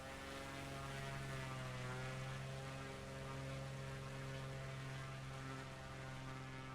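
Aircraft engine drone during a low flyby in Microsoft Flight Simulator 2020 over New Zealand: a steady, even, tonal propeller hum that holds throughout, unbroken by speech.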